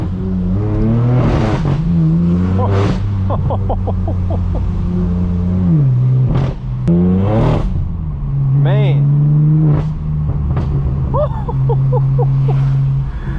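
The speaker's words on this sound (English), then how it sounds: "you can just hear those tires just fighting for that traction" A straight-piped BMW M4 F82 revs hard and repeatedly on a night drive through Los Angeles, rising and falling in pitch with tire chatter and squeal as the tires fight for traction, as someone talks briefly over the noise.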